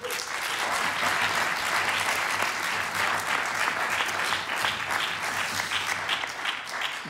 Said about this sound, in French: on peut l'applaudir déjà